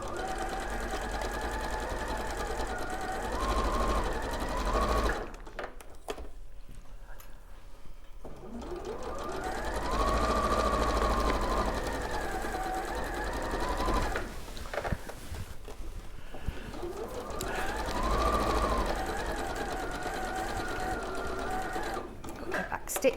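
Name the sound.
sewing machine stitching a spring sheep cushion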